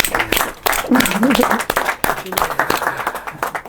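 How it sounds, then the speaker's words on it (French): Applause from an audience at an inauguration event, a brief burst of clapping mixed with a speaker's voice talking over it. "Est-ce qu'on peut applaudir pour les seigneurs s'il vous plaît?"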